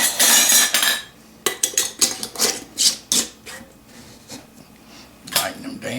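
Metal canning jar lids set onto jars of sweet potatoes and screwed down, with sharp clinks, scrapes and taps in irregular bursts, close up and fairly loud.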